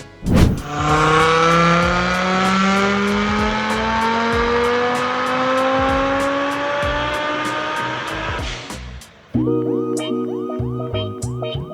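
A loud turbocharged 925 hp Audi RS3 (8Y.2) engine revs steadily upward on a dyno for several seconds in one long pull, then drops to a rough, burbling idle with popping.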